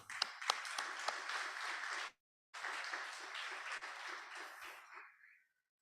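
An audience at a Swami Vivekananda Jayanti gathering at Sri Sarada Devi Ashram applauds children's choral verse, with dense, steady clapping that cuts out briefly, resumes, and then fades out.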